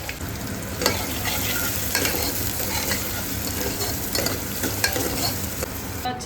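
Onion and curry leaves fry in hot oil for a sambar tempering, giving a steady close sizzle with soft stirring scrapes throughout.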